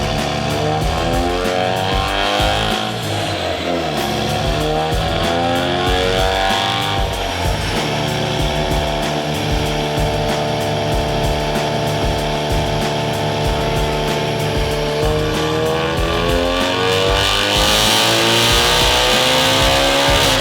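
A Ford Focus RS with full bolt-ons runs a quick dyno pull on its base map, the engine loud and close as it rises through the revs with rising harmonics and a raspy, boosted roar throughout.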